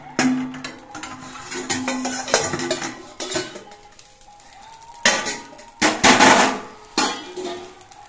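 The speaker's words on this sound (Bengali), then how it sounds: "এবার এই কড়াইয়ের মধ্যে একটা স্ট্যান্ড বসিয়ে দিচ্ছি।" A metal stand clatters and clanks as it is set down inside a heated kadai, with a string of sharp, ringing metallic knocks and scrapes of uneven loudness.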